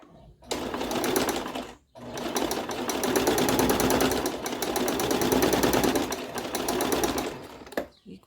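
A sewing machine stitches fabric scraps into a rug, a loud, fast, rattling whir in two long runs split by a brief pause, stopping near the end.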